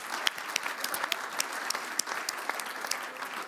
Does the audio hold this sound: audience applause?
yes